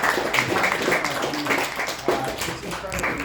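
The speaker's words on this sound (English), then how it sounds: "Can we give a nice round of applause?" An audience applauds for a student assembly speaker, a steady patter of clapping that carries through the whole moment at moderate volume, with some voices mixed in.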